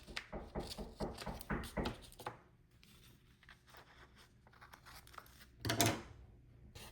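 Scissors trimming planner paper, a quick series of crisp snips and cuts at the start, then quieter rustling and one louder paper crinkle, faint and close.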